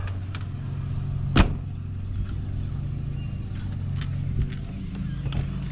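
Keys jangle near a parked car at a campsite during a Canadian wildfire alert. A sharp metallic clink rises above a steady engine-like hum, with a few softer rattles after it.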